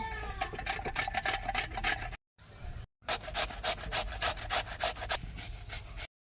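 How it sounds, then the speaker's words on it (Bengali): Ash gourd is grated on a kurni, a traditional hand grater, in rapid rhythmic rasping strokes, close and steady, with two brief silent breaks. "আমি কুন্ডির বড় মুখটা দিয়ে চাল কুমড়ো কুচিয়ে নেব"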